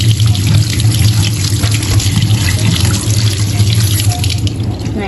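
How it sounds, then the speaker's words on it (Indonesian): Ginger root washed under a running kitchen tap, a loud, steady stream of water splashing into a sink throughout, with light dripping and rinsing sounds close by. "ini sebelum kita gunakan jahenya kita bersihkan sampai bersih terlebih dahulu"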